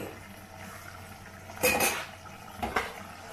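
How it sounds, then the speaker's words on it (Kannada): Metal clanks twice as a pressure cooker lid is set and pressed shut over half-cooked rice for mushroom biryani, a sharp clatter followed by a shorter knock over a quiet kitchen background. "ಈ ಟೈಮ್ನಲ್ಲಿ ನಾನು ಕುಕ್ಕರ್ನ ಮುಚ್ತಾ ಇದ್ದೀನಿ"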